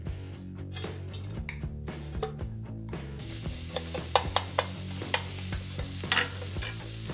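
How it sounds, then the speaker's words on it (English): Spicy pork for jeyuk kimbap stir-fried in a pan with a little oil, a loud continuous sizzle under repeated scraping strokes of a spatula, the stirring quickening into rhythmic clacks toward the end. "Stir fry again."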